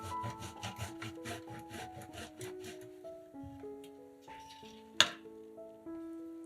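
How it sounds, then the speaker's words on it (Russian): About 150 grams of cheese is rubbed across a fine grater in quick, rhythmic scraping strokes for the first few seconds over soft background music, which then continues alone. "150 грамм сыра трем на мелкой терке."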